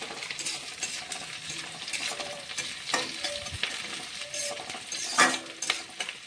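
Mutton frying with onions in a pan, a soft continuous sizzle broken by scraping stirs and occasional clinks of a utensil against the pan, fairly quiet and without talk.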